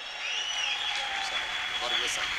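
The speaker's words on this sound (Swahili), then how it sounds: "tupige kelele za shangwe mbele za Bwana" Evangelical congregation at a large gospel convention in Dodoma cheering and applauding, a steady wash of claps and shouts with a few higher whoops rising above the crowd noise.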